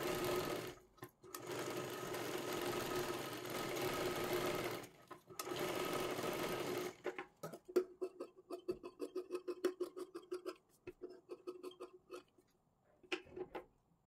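A sewing machine stitches the back seam of a fancy frock for a baby girl aged one to two, whirring steadily in two long close runs, then giving way to quieter, choppy bursts of short stitching with brief pauses.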